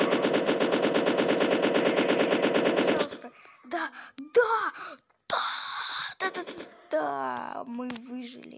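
Rapid, loud, continuous machine-gun fire shooting at dinosaurs in a survival video game, then breaking off into shorter bursts and game sounds with vocal groans and gasps.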